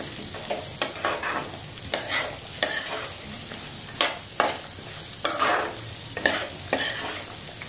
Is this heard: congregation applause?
no